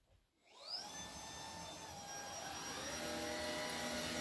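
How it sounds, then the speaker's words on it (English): A Shark ICZ160UK cordless vacuum cleaner with powered lift-away spins up from quiet to a steady high-pitched whine and airy roar, running continuously and close with no talking. "this machine is actually much quieter than my previous corded vacuum cleaner"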